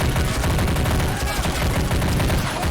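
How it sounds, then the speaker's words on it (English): Steady exchange of gunfire in the war game Army Men of War as rebels hold a burning city, dense overlapping shots and bursts forming a continuous loud battle din without pause. "there's a good exchange of fire right there"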